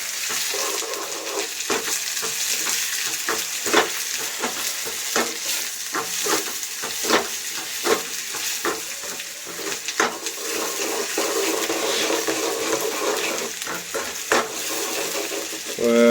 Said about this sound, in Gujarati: डूंगरी को हिला हिला के मारेगा